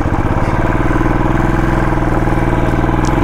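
A warmed-up motorcycle engine idles close by, a loud, steady, rapid thumping pulse that holds even throughout with no revving and no voices.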